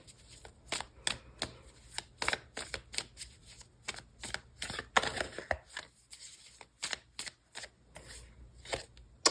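Tarot cards shuffled in quick, irregular riffling bursts close up, with a run of crisp flicks and slaps in a quiet room.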